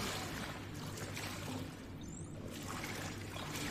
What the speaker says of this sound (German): Hier ist überall Wasser.